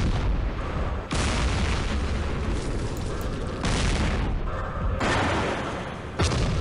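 Gunfire in the Campaign Series Middle East wargame destroys a recoilless rifle: loud, dense booming bursts of fire, with several sharp new volleys breaking in at intervals over a continuous rumble.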